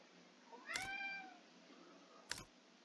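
A single faint, drawn-out cat meow rising and falling, with a soft click before and after it.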